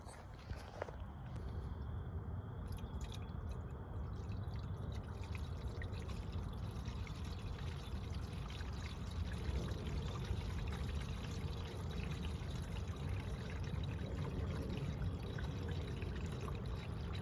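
Coolant pours into a Ford 6.0 diesel engine as a long, steady, low glugging stream with faint trickles. Scattered clinks and shuffling movements sit over it, and the whole thing stays quiet and close.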